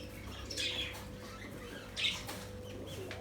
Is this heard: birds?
yes